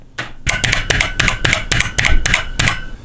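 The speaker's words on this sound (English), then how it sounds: "The keyboard just has an amazing sound to it." Keys clatter on an Acorn Electron home computer keyboard, a crisp run of about ten sharp, evenly spaced clicky strokes, close and loud with nothing else heard.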